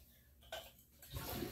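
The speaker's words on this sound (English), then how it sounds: "I think it's good to flush now." A toilet flushes after being scrubbed clean, a close rush of water that starts abruptly and swells into a loud, churning swirl, with no one speaking.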